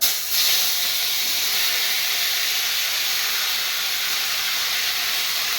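Tomatoes sizzle in hot oil seasoned with panch phoron, a loud continuous hiss and spatter close by that holds steady throughout, with no talk.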